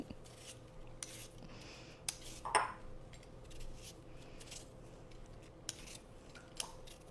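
A potato is peeled by hand in a home kitchen, giving quiet, scattered scraping strokes with a few sharp clicks of the tool, close and soft, with no talk.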